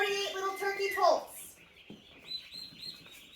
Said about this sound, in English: 48 little turkey poults.